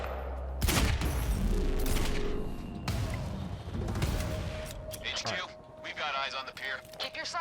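Bursts of rapid gunfire in the video game Quantum Break crackle and boom close by in a busy, loud mix, with voices talking over and between the shots.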